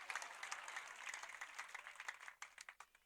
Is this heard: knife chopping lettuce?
no